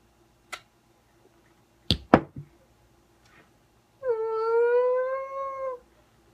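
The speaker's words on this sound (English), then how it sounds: "What was that? That's a whale." A long, rising-then-level whale call sounds in a film scene, moaning with a tonal, harmonic quality for under two seconds, preceded by a few sharp clicks and knocks in a quiet room.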